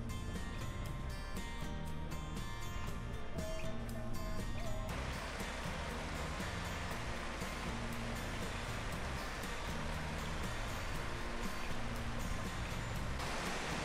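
Mountain valley stream rushing steadily beside an autumn trekking trail, a continuous broadband wash of flowing water that stays constant and fairly close throughout, with no talking.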